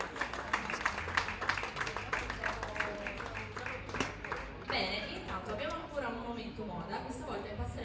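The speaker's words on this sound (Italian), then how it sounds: "facciamo un ultimo applauso anche per ringraziare" A beauty pageant audience at a bar stage event clapping, heard as sharp, uneven claps that rise and thin out over several seconds, with a voice talking over them.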